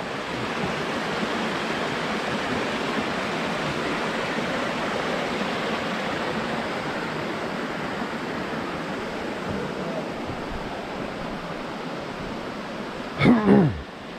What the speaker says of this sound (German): ich muss hier beim Wasserfall anhalten